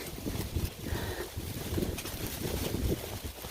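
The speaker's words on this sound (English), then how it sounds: "Okay, it's windy." Strong wind on the Appalachian Trail buffets the microphone in continuous gusty rumbles, with a watery, open-air hiss behind it.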